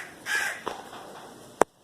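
Several crows caw nearby. A drawn-out caw is followed by a shorter one, then a sharp, loud caw closes the sequence, with brief quiet gaps between them.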